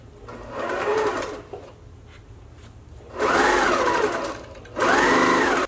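Sewing machine stitching through fabric while a see-through smile face mask is sewn, running in three steady whirring bursts with brief pauses between, close and fairly loud with no talking.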